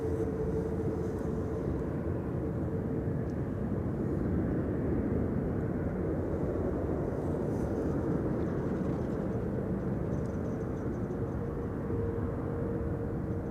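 A Corendon Airbus A350 lands on the Polderbaan at Amsterdam Schiphol, heard as a sustained, distant low roar of jet engines that holds steady without a clear peak.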